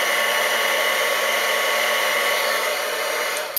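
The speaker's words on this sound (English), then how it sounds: "You don't need to move your heat tool around, you can just keep it still" Heat tool blowing hot air steadily over embossing powder on a card, a loud, continuous, even whooshing roar with no talk, cutting off abruptly at the end.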